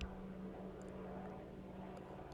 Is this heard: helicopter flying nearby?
yes